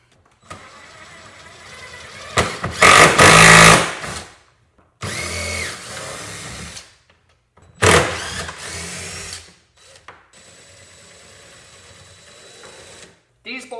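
Bolts are backed out of a Dagger Contour kayak with an oversized Phillips screwdriver or driver during a Jed outfitting upgrade, giving bursts of close, loud whirring with gaps between them.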